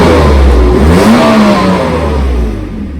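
A 1991 Mercedes-Benz 300TE-24 wagon with a 3.4-litre AMG engine and automatic transmission accelerates hard, its loud engine note rising in pitch and then easing off, heard close and steady with no speech.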